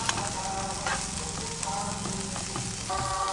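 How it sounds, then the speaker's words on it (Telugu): Boiled cluster beans fry in a pan with a steady, close sizzle and occasional stirring scrapes, no voices over it. "అది కొంచెం ఇంకిపోయేంత వరకు మనం ఫ్రై చేసుకోవాలి"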